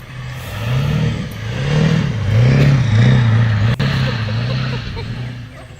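An old, mostly stock work truck with a tuner and aftermarket intake and exhaust, its knocking engine revving in rising and falling surges, loud and close throughout.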